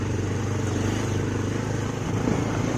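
A motorcycle rides along a road toward Likabali in Arunachal with a rider on the back. Its engine makes a steady, loud drone close by, with wind and road rumble and no clear gear changes.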